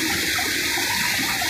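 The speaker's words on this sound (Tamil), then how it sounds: "Kozhikkarai water falls" Kozhikarai waterfall running in flood, water thundering down in an unbroken, dense rush, close and loud throughout with no talk over it.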